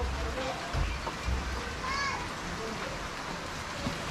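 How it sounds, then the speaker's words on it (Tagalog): Heavy drizzle falls steadily outdoors near a house with scaffolding, an even soft patter filling the background while children's voices and faint talk come and go. "Ang lakas po ng ambon."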